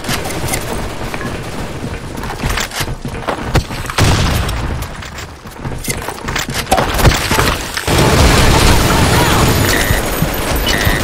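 Grenade detonation in the shooter game The Hunting, a loud booming blast mixed with gunfire-like bursts and crackling, with a heavy boom near the middle and another near the end.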